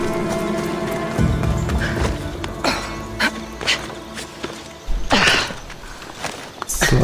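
Horse hooves clip-clop in an irregular walking rhythm over a steady synthetic background hum, with a few louder thuds mixed in, in the video game Assassin's Creed Odyssey.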